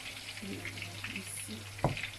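Food frying in ordinary cooking oil, not palm oil, hisses steadily while being stirred, with soft scraping through the sizzle and one sharper knock of the utensil against the pan near the end.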